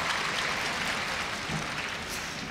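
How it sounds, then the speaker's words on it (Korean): Steady applause from a large audience fills a university entrance ceremony hall at Korea University, dense and continuous throughout without any speech over it. "박수 많이 치시느라 힘드셨죠?"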